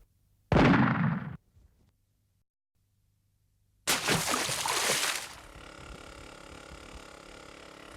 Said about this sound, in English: We're basically firing a gun at the camera.